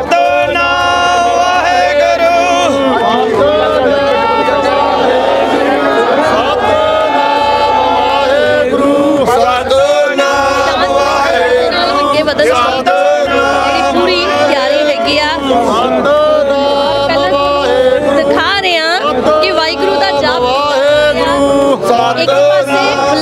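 Sikh protesters at the Shambhu border shout jaikara slogans. A loud, continuous mass of crowd voices rises and falls in long, tonal, wavering calls, with low rumbling underneath.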